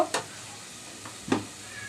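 Spices with red chili powder frying in a pan for a cauliflower-stem dish, with a low continuous sizzle and two sharp spoon scrapes, close and fairly quiet.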